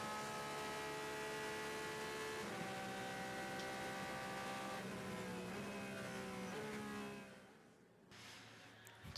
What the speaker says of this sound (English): in the GT cars you have that lovely acceleration and proper kind of revving engine